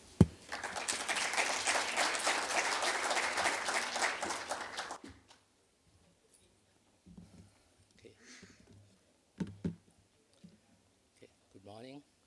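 Audience applause for a guest speaker at a morning conference session, a dense steady burst of many hands clapping for about five seconds, then stopping abruptly before quiet shuffles and the start of speech.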